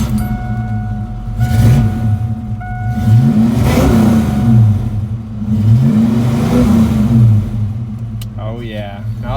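A 1987 Ford Mustang GT with its 5.0 V8 cranks and catches, then settles into a deep idle broken by several loud revs that climb and fall, close by.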